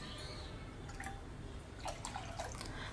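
Water goes into a pot of rinsed lentils as they are set up for cooking, with light drips and splashes heard faintly over a steady background hiss.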